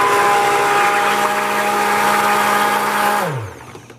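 Blender whirring steadily through milk soap batter, a loud continuous motor drone that winds down and stops near the end.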